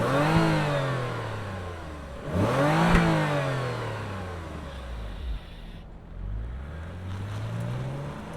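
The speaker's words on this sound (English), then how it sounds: "let's fire up this Lexus and hear its V6" A 2023 Lexus ES 350 F Sport V6 engine revs repeatedly with no one speaking, its pitch climbing and falling in several rises and drops of revving.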